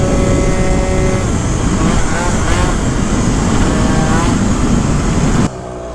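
A tuned Yamaha Zuma moped engine with a Phantom F12 setup revs hard and close, a loud, sustained, buzzing high-pitched drone that holds steady before dropping off abruptly near the end, with people talking over it.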